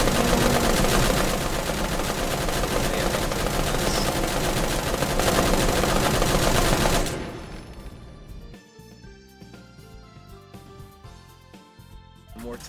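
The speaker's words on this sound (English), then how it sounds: "Pretty much just a machine gun nest by that point." Sustained machine gun fire from a nest in the video game Grave/Digger, a loud continuous rattling burst for about seven seconds that then cuts off, leaving quieter game sounds.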